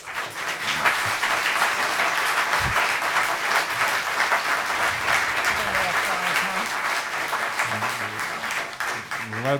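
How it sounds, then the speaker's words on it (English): Audience clapping at a town zoning board meeting fills the room for several seconds as dense, sustained applause, with voices talking underneath toward the end. "Let's refrain from the clapping,"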